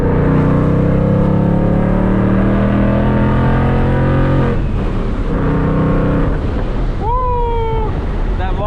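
A Procharger-supercharged Ford Mustang engine drones and climbs steadily in pitch close by, then eases off, with a voice and wind noise mixed in.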